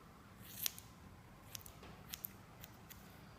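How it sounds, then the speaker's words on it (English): Scissors snipping hair while trimming a bob sew-in, a few crisp, quiet cuts spaced irregularly, one sharper snip near the start followed by lighter clips over low room noise. "I'm just gonna take this little piece and trim it down"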